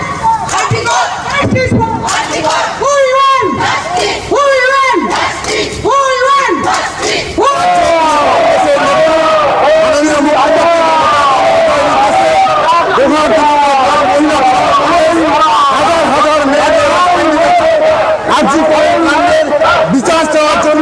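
Protest march on the Dankuni–Durgapur road in Hooghly over the RG Kar case, a large crowd chanting slogans in loud rhythmic call-and-response bursts at first, then a continuous massed chant, close and dense.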